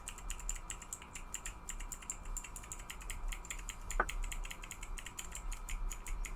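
Rapid plastic clicks from a fidget toy fitted with keyboard-style buttons, tapped in quick irregular bursts at close range over a low steady background hum, with one sharper click standing out partway through.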